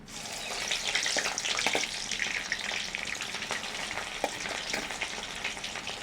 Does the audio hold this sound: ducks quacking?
no